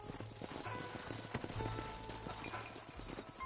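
Horses' hooves clip-clop steadily as riders move through a Red Dead Western canyon in a video game, a fairly soft, busy patter of several animals at close to middle distance.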